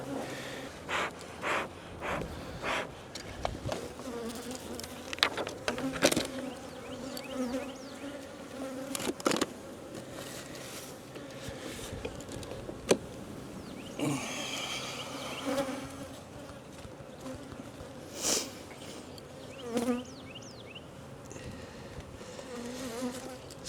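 Honeybees buzz steadily in a dense swarm around an open hive, with louder passes as individual insects fly close, alongside occasional soft breathing and rustling nearby.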